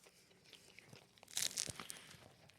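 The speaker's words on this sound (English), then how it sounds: "Oh man, nice crunch there on the bite." A bite into a crunchy po' boy sandwich gives a couple of close, crisp crackles, followed by faint chewing and crumb rustling in a quiet setting.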